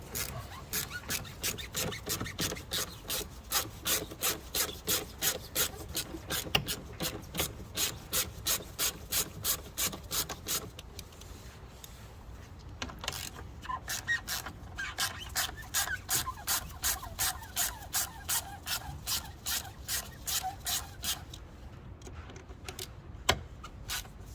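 Three T30 Torx bolts are undone on the wiper motor and linkage assembly of a VW Golf Mk7, giving a long run of close, rapid, rhythmic ratcheting clicks with a short pause partway through.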